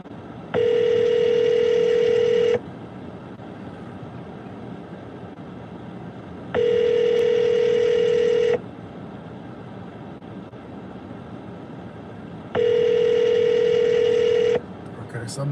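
An outgoing phone call rings on the line from a rideshare driver's car, three evenly spaced two-second ring tones separated by quiet gaps over faint road hum.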